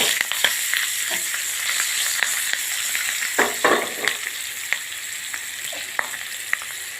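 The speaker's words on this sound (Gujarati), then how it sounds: "ડુંગળીને આપણે થોડી ફ્રાય કરી લઈશું." Sliced onions frying in a pan for a paneer dish, a steady bright sizzle with scattered pops and occasional stirring scrapes, close and continuous without talk.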